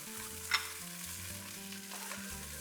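Tomato puree stirred into browned onions in a pan for dal makhani, a soft steady sizzle with a repeating scrape of the spoon and one brighter clink early on.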